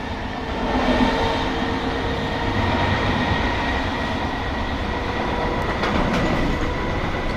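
A class 321 electric train runs at speed out of Stratford junction, a steady loud rumble of wheels on rails with a faint motor whine and occasional rattles, no voices.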